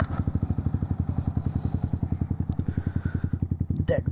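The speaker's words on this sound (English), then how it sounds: "So let's listen to the exhaust noise here." A Yamaha R1 motorcycle with an Akrapovic exhaust burbles at a steady idle, deep and loud with rapid regular pulses, close by, with a brief clatter near the end.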